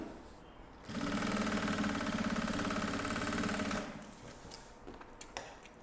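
A sewing machine stitches a wide stitch while sewing a trapezoid box-style toiletry bag, a fast, even mechanical rattle that runs for about three seconds, then stops, leaving quiet handling sounds.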